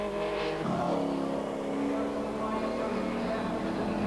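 TVR Tuscan race cars charge past at a 1995 race, engines roaring loudly as they accelerate and sweep by, the pitch dropping away, with race commentary running over the noise.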